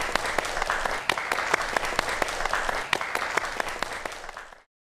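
Audience applause before a lecture on cardiac arrest and the golden-time window, broadcast on a science channel: dense, lively clapping with sharp individual claps standing out, sustained for several seconds before cutting off abruptly.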